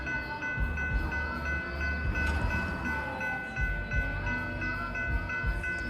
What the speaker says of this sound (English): Because of a second train which might go.